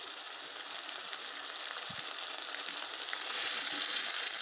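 Ginger, garlic and cumin paste frying in oil with browned onions; a loud, continuous close-up sizzle that swells slightly toward the end, with no talking.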